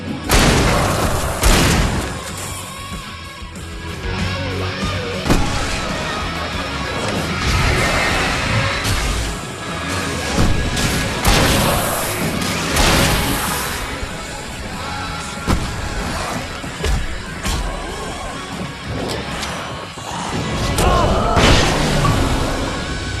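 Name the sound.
battle explosions and gunfire from video game Alan Wake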